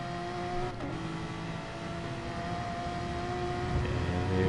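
Race cars roar together on track in Gran Turismo Sport, engines droning steadily as one closes in to overtake, with gear changes and pitch shifts under the continuous noise.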